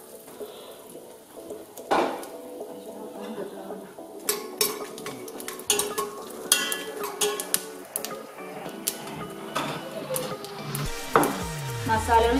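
Whole spices hit hot ghee in a pan for Kerala-style ghee rice, with light sizzling mixed with clinks and scrapes of a metal utensil against the pan throughout.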